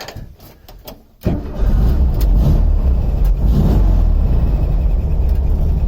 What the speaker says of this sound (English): In terms of the engine, let's have a quick start up.